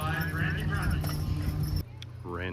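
Heavy draft horses at a county fair horse pull, hooves clopping and harness jangling amid a busy outdoor crowd, with people talking throughout and a horse whinny near the end.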